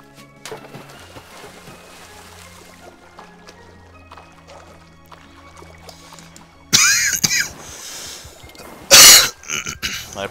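A person close to the microphone coughs twice in sharp, loud bursts during quiet video game play, with a throat-clearing rasp and a short pause between them.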